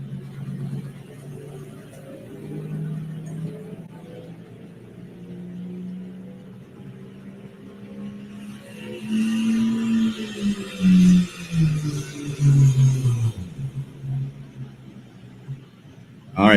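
Dodge truck with an inline six-cylinder Cummins diesel in the 2.6 class at a truck pulling competition, its engine droning steadily, then surging and roaring in loud revving bursts toward the end, with an announcer talking throughout.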